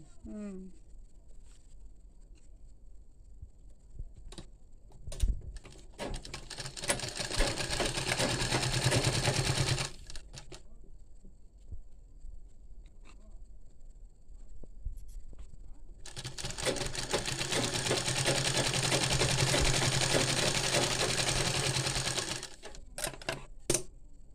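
A sewing machine stitches a kubasa blouse in two long runs of rapid, even clatter separated by a quieter pause with someone talking softly, and scattered clicks in between.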